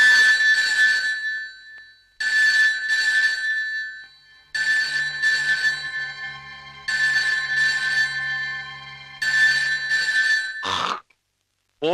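A telephone rings in repeated bursts, each a pair of bright electronic trills separated by short pauses, fairly clear and close, with no talking over it.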